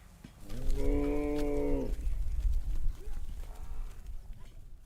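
A single long, loud moo from cattle in a rural area rings out close by, followed by quieter shuffling and low background noise.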